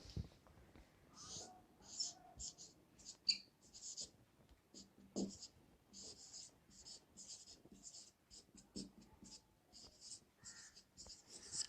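Chalk or marker scratching across a board in a chemistry lecture, many short rapid writing strokes in bursts, faint and close, with a quiet voice speaking softly between them.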